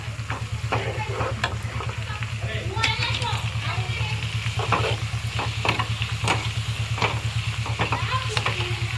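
Cumin seeds sizzle in hot tempering oil for Gujarati patra, a close, busy crackle with a low rhythmic hum underneath and scattered sharp clicks of stirring throughout.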